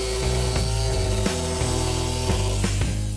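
Sheet metal cutter slicing through thick gauge aluminum, a loud continuous grinding, rasping drone with a few sharp clicks as the cut advances, close up.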